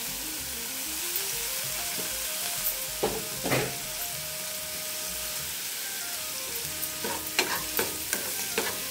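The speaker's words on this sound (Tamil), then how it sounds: "இந்த வாழைத்தண்டை நல்லா வடிகட்டி இதில் போட்டு நல்லா வதக்கிக்கலாம்." Chopped banana stem frying in oil in a kadai, a steady sizzle running throughout with scraping stirs and a few sharp clinks of the ladle against the pan, close up and with no voices.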